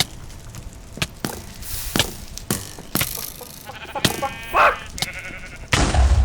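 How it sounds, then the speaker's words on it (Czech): Sheep bleat several times in short bursts, mixed with sharp percussive knocks and clatter at an uneven rhythm, fairly loud and close, with no talking. "ovečky. Pardon,"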